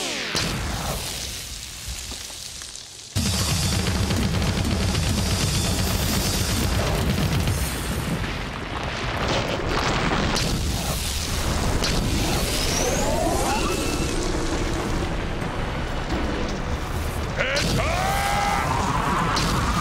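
Cartoon explosions from an animated Sonic the Hedgehog episode boom loudly and repeatedly, with crashing, whooshing bursts that fill most of the stretch after a quieter opening.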